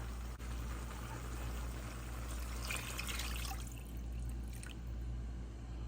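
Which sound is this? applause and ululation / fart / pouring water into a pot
pouring water into a pot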